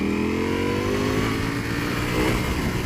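A 2018 Ducati V4S superbike engine roars at full throttle in race mode, its rising whine climbing steadily, loud and close throughout with no talk.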